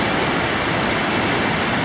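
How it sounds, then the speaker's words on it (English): A river at sunset in a state park rushes with a steady, broadband roar, fairly loud and continuous, and no one speaks. "I'm trying to get some of this river in the front"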